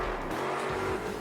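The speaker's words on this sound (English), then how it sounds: "Throwing into some donuts now with 30 seconds left." A car in the BeamNG driving game spins donuts, giving a steady loud engine roar with a sustained whining tire squeal running throughout.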